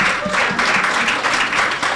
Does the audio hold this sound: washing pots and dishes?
no